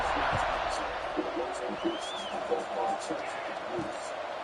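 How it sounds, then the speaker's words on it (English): Football stadium crowd buzzing after a score, a steady mid-distance roar of babble with scattered whoops and claps running the whole time, while a commentator's voice sits over it. "this crowd is buzzing after that last score"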